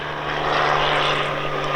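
A Bell 47 piston-engine helicopter flying at an airshow, heard as a steady, loud droning engine hum with an even low throb and broad rushing noise, no voices over it.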